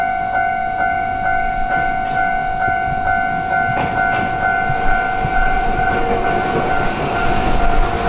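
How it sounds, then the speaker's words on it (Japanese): Orange Iyotetsu electric train running near Matsuyama on Shikoku, heard as a loud, steady rumble with rhythmic wheel clatter and sustained tonal hums throughout, no voices. "オレンジ色の電車、四国松山周辺を走る伊予鉄道です。"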